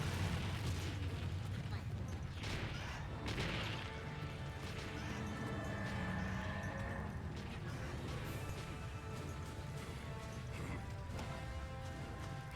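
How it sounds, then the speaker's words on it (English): Anti-dragon bombs going off in Monster Hunter 3 Ultimate, a dense run of booming blasts and crashing impacts over continuous game noise, with a player talking throughout. "I need to drop the anti-dragon bombs"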